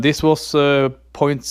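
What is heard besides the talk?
No everyday noise stands out behind the speech.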